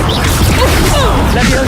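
A spell cast in the video game Hogwarts Legacy, a fiery whooshing swish with crackling bursts, loud and close over a dense busy game soundscape, with a voice talking around it.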